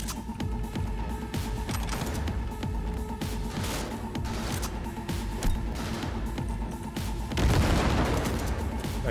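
Heavy gunfire in a Cyberpunk 2077 firefight: a big gun fires rapid, dense bursts with crashing impacts that continue without a break, growing louder near the end.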